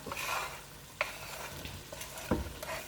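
Chopped onions, peppers and celery hit the hot pot for Cajun dirty rice, sizzling steadily up close while a spoon stirs with a couple of dull knocks.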